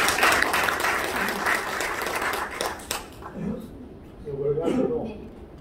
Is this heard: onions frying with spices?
no